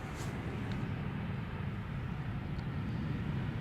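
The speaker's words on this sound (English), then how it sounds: "EasyJet just arrived." An EasyJet Airbus A320neo arriving from Milan, a steady broad jet roar at moderate distance holding level throughout with no voices over it.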